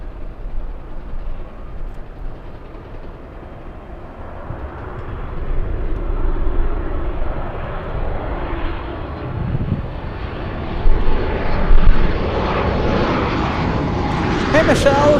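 A WestJet airliner bound for Vancouver taxis at LAX, its engine roar swelling steadily louder and brighter as it draws nearer, with voices talking faintly over it.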